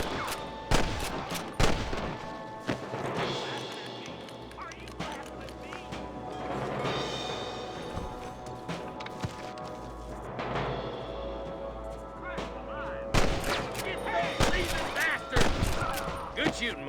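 Rapid bursts of gunfire from the Red Dead Redemption video game on PC, sharp reports clustered in volleys across the stretch, with game voices and ambient sound underneath.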